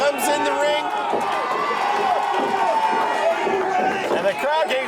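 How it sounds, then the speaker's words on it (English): Wrestling crowd cheers and shouts with busy, layered voices filling the hall, a loud continuous roar with individual yells rising above it and commentary talk mixed in. "And the crowd getting fired up behind him."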